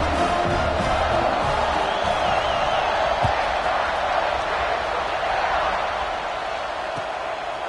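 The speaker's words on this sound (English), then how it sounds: "You think this crowd's going to get loud when their defense comes on the field?" A college football stadium crowd roars in a steady, dense wash of cheering and shouting around a kickoff, loud and sustained throughout with no clear gaps.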